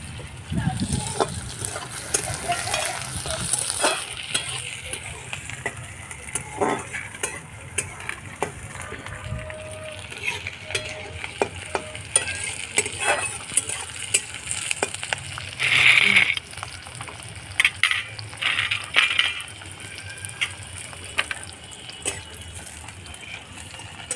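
Chopped onion, cumin and green chili sizzle in a hot pan with a soft, steady hiss and occasional clinks, while a person talks over the cooking.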